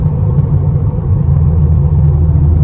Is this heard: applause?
no